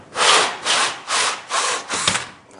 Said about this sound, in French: j'utilise ma visseuse et ma scie cloche de 65 pour percer le trou